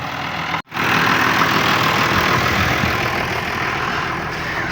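An engine runs loudly and steadily close by, broken by one brief dropout before resuming at a constant idle-like roar as the machine sets off over spring-disked ground with stones.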